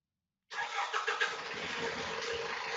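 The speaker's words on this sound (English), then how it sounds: "If you can hear a car, I apologize" Car engine outside rising in suddenly after silence and holding as a steady broad rumble and hiss, moderately loud, with no talk over it.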